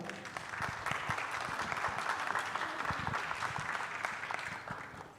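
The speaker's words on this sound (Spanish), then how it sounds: "Un aplauso, por favor" Applause from an audience at a migration congress in Chile, a dense, steady clapping from many hands that holds for several seconds and then begins to fade.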